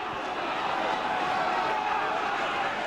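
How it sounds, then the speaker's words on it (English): Rugby crowd at a Gloucester versus Bath cup match roaring in a dense, continuous wall of cheering that holds steady and loud throughout, a stadium-wide swell with no single voice standing out. "Crowd are going wild."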